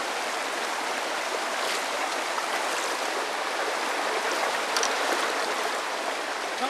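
An ice-cold mountain stream in a Jirisan valley rushes over rocks in a loud, continuous broadband wash, close and steady with no voices.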